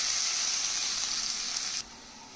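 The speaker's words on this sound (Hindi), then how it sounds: "तो प्याज भूनते हैं" Onions frying in a pan for a soya chunk curry, a steady close sizzle that holds evenly and then drops off sharply near the end.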